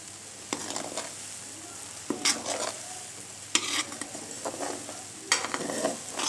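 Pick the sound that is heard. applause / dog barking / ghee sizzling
ghee sizzling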